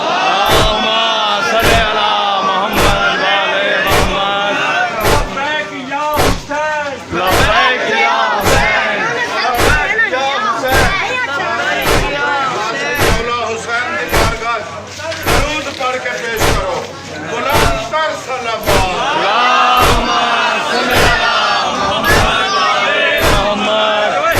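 A large crowd at a Muharram mourning procession loudly chanting salawat in unison, with sharp rhythmic slams or chest-beating strikes at a steady beat throughout, dense and close.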